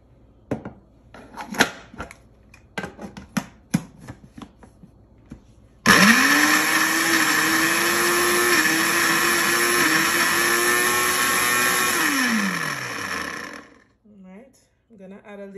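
A blender purees mangoes with evaporated milk, starting abruptly after some kitchen clatter and talk, then whirring loudly and steadily with a slight rise and dip in motor pitch before winding down.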